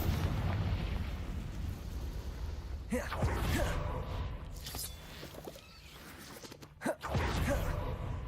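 Bombarda and Confringo spells in Hogwarts Legacy explode in a series of bursts, each with a sudden crack and a rumbling tail, over a steady background rumble, with a sharp pop near the end.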